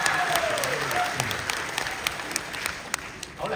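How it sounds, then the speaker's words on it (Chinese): A theatre audience at a crosstalk comedy festival in a Beijing playhouse claps in dense, sustained applause that gradually thins toward the end. "谢谢大家雷鸣般的掌声"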